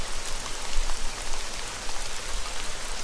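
Steady video game rain from Dora the Explorer: Click & Create on PC hisses down evenly, a dense patter of drops with no voices.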